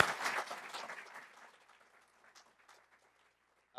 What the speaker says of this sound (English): quick round of applause for these guys